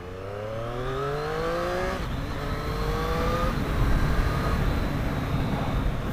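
A Triumph Street Triple RS motorcycle engine revs, with rising and falling tonal engine notes that climb in pitch, then a broader, louder roar that holds steady.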